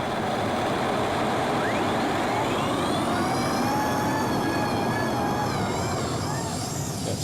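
Turbine-engined pulling tractor Nirvana in the light modified class roars loudly at a 2015 European championship pull in Brande, Denmark, a steady dense drone with rising whining turbine tones building over several seconds.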